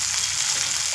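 Masala with a small amount of tomato paste sautéing over a medium flame, giving a steady, close hiss of frying with no talk.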